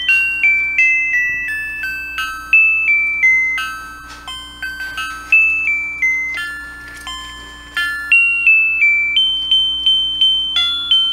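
A tinny electronic chime from a musical Christmas decoration plays Jingle Bells, each bright note ringing and fading in a steady bouncing rhythm, close and fairly loud.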